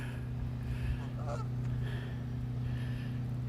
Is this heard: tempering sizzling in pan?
no